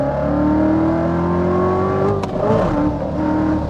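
A 2024 Corvette C8 Z06 drops a gear and accelerates hard, its engine note climbing steadily and loudly in pitch before a brief shift-like break, then revving on, filmed in Tijuana, Mexico.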